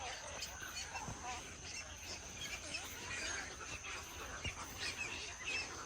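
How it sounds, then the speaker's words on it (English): Birds call in a swamp where alligators live, with a faint, dense layer of chirps and cries coming from a distance. Insect buzzing blends into the steady background. "All these birds."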